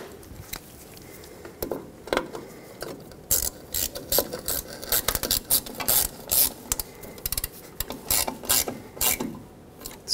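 Hand ratchet tightening small wheel cylinder bolts on a 1995-2004 Toyota Tacoma rear brake, giving bursts of quick close clicking in short runs with brief pauses.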